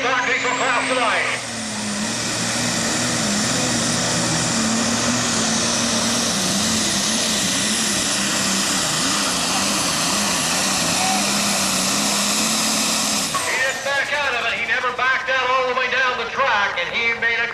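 A Super Stock Diesel class tractor roars through a pulling run at a truck and tractor pull, its engine a loud, sustained drone that cuts off abruptly near the end, with an announcer talking over it.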